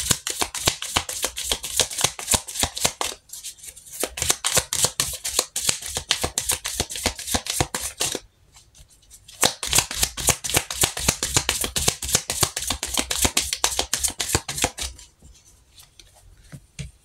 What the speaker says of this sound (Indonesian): Kita langsung shuffle kartunya.